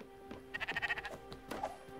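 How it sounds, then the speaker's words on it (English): Sheep bleating in the video game Spiritfarer, a run of quick wavering bleats in the middle followed by a shorter bleat, fairly clear over quiet game ambience. "Hello, Mr. Sheep."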